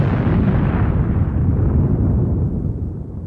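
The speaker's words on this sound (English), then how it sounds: "the British detonated the first of 5 massive mines planted underneath the German line" A massive mine detonates beneath the German line in a First World War battle, a loud, dense roaring blast with rumbling debris that fills the whole moment and slowly tails off at the end, with no voices.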